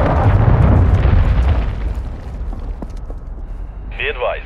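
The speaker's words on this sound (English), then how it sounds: "Friendly cruise missile approaching target." A cruise missile strikes in Call of Duty Modern Warfare 2 multiplayer, giving a loud, booming explosion at the start that rumbles and fades over a few seconds, followed by a short radio-style blip.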